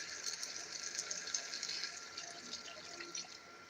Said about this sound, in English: So throw in some water